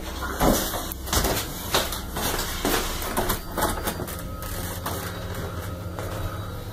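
A door inside a house bangs and knocks, several sharp thuds spaced over a few seconds against a faint hiss.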